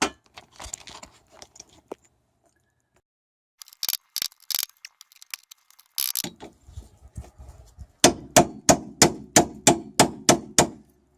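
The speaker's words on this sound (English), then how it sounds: "I'm going to give it a whack with my punch here to hopefully loosen them." A metal punch is struck repeatedly against a seized wheel bearing during a repair, with scattered clanks and tool handling first, then a run of about nine loud, evenly spaced ringing hammer blows.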